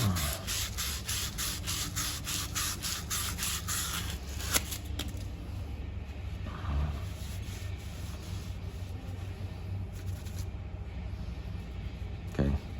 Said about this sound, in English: a little bit of sandpaper here to clean it up a touch